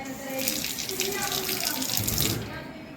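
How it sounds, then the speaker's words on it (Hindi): Water pours and splashes steadily for washing feet outdoors at a home, a continuous close gush lasting a few seconds before trailing off. "पहले पाँव धो लेना चाहिए।"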